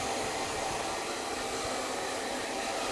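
A hair dryer blowing on its cold setting during a hair-styling session, a steady loud whooshing airflow that holds constant and close throughout, with no talking.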